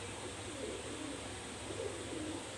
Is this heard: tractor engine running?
no